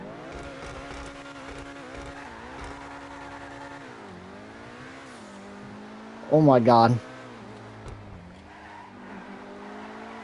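Obey 10F sports car in GTA 5, engine revving steadily with rising and falling pitch, then a loud burst of acceleration and a sharp tire squeal from skidding around the middle, with a person exclaiming over it.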